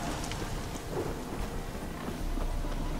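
Thunder rumbles during a rainstorm in the open-world video game The Witcher 3, a steady, dense wash of rain and low rolling thunder holding at a constant loud level with no speech.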